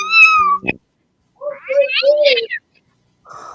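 A cat meows loudly up close in a few drawn-out, wavering calls, with a short gap of silence between them, followed by a brief softer sound at the end.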